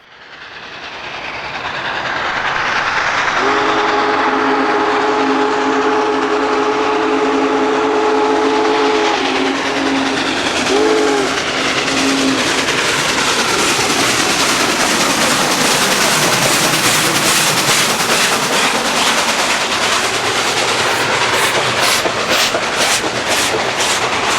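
Union Pacific steam locomotives 4014 and 844 run as a doubleheader: a loud steam whistle sounds in long blasts early on, over a continuous roar of exhaust and rolling rail cars that builds and stays close throughout.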